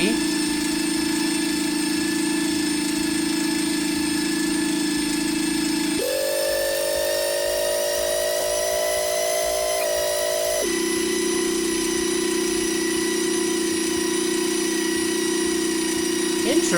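A homemade transmission whines steadily with a constant motor-like drone, its pitch stepping up for several seconds when shifted into reverse gear, then dropping back to the earlier tone.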